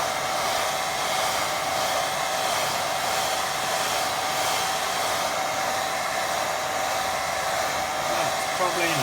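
A hair dryer blowing on a wet watercolour pond painting, a steady close whooshing roar with an even motor whine that runs unbroken from start to end.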